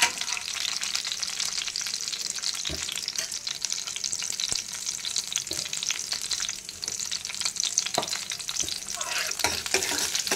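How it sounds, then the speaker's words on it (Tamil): Cashews, raisins, cardamom and cloves fry in fat for a white pumpkin halwa, with a continuous crackling sizzle and frequent sharp scrapes and taps of a spoon stirring in the pan. "இதில் வந்து முந்திரி, திராட்சை, ஏலக்காய், கிராம்பு இவ்வளோத்தையும் போட்டு நம்ம கொஞ்சம் செவக்க வந்து கொஞ்சம் ஃப்ரை பண்ணணும்."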